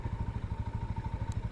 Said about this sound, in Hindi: this kind of humming of the engine, और एग्जॉस्ट नोट बहुत अच्छा है